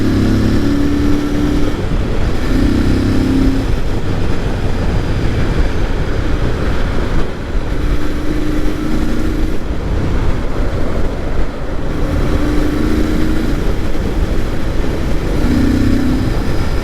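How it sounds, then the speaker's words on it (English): A Royal Enfield Interceptor 650 motorcycle fitted with an aftermarket air filter and exhaust runs steadily up close, its loud, deep, bassy engine rumble continuing unbroken throughout with no talking. "I hope you guys can hear the air filter and the exhaust working together to create a beautiful bassy sound."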